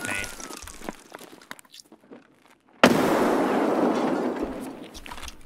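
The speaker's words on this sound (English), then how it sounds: "I'm popping a nade." A grenade goes off in the shooter game Escape From Tarkov, a sudden loud blast that gives way to a long rumbling roar after quieter scattered clicks, with speech present.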